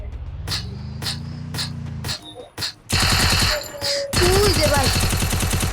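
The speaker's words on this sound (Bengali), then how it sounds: "কেন আমার গাড়ি গুলি করতেছে" Rapid automatic gunfire in the Free Fire video game rattles in loud, dense bursts, broken by short gaps and single shots, with a vehicle engine drone at first and someone talking over it.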